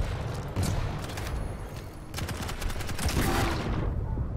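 Rapid weapon fire in the arena shooter Quake Champions, a dense run of sharp blasts and explosive bangs in quick succession, loud and close amid busy combat noise.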